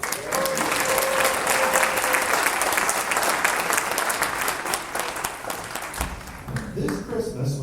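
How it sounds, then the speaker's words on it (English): Audience applause at a community band winter concert in a theatre, dense sustained clapping from a large crowd that thins out near the end. "Another round of applause for Jazz."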